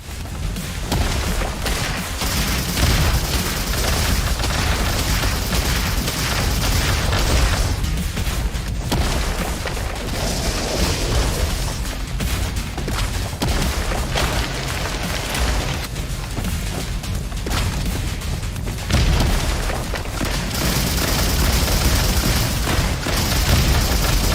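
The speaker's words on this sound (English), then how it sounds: "check out that explosion" Explosions and gunfire from the RoboQuest video game, a continuous dense barrage of booms and bursts with heavier blasts standing out at intervals, loud and unbroken, without speech.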